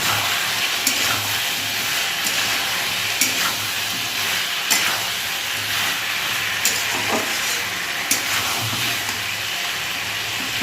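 Taro curry with green chillies is sautéed and stirred in a pan, a constant dense sizzle and hiss with occasional faint spatula scrapes and clicks, close and fairly loud, no one speaking.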